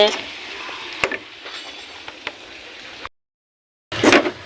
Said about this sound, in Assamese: মিক্স কৰি পেলাই এতিয়া লৰাই থাকিম